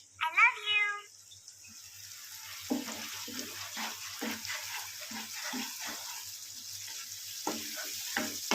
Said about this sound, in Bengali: দেওয়ার পরে আবার কিছুক্ষণ নাড়িয়ে নিতে হবে।